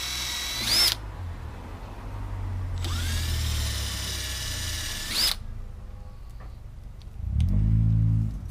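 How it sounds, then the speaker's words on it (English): A power drill runs in two bursts with a brief pause between, its motor whining as it pre-drills screw holes into wooden railing, followed by a lower rumbling whir. "pre-drill with the depth marked on the drill."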